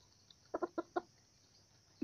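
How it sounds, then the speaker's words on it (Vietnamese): Breeding rooster giving four short, quiet clucks in a quick cluster, each a soft burst, with a louder sound at the very end against a faint background hiss. "Đây là con gà đúc của nhà đấy"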